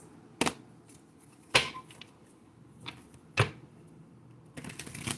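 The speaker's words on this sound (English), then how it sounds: "Wasn't a very good shuffle." A deck of affirmation cards is shuffled and handled in a few sharp, brief riffles and taps spaced across the moment, close and fairly quiet between bursts.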